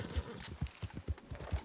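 Horse hooves in Red Dead Redemption 2 clip-clop in a steady, even rhythm, about six or seven close, moderately loud steps over quiet game ambience.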